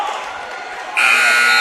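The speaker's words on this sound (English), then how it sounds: "the second period buzzer sounding" A period-ending buzzer at a high school wrestling match between Wawasee and Elkhart Memorial cuts in loud and steady midway through, sounding continuously over gym crowd noise.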